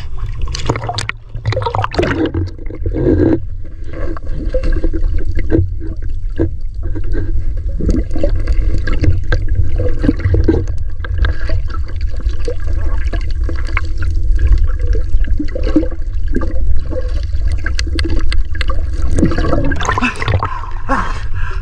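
Rough, choppy sea water churns and splashes in a loud, continuous wash that swells and rolls without pause, heard close up.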